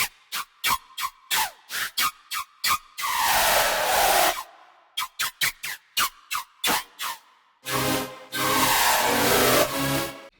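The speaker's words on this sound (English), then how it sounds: "let's go over the drop lead from the second drop here" A simple Serum synth drop lead from an electronic track's second drop, built from a Cashmere preset, plays staccato hissy stabs alternating with longer sustained noisy swells, loud and up close with no voices.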